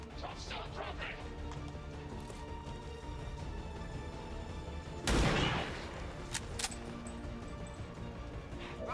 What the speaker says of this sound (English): Wow, 3 shots in a row and all 3 are dodged